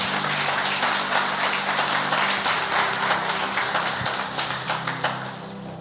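A church congregation applauds loudly, a dense, sustained wash of many hands clapping that stays strong for several seconds before tapering slightly near the end.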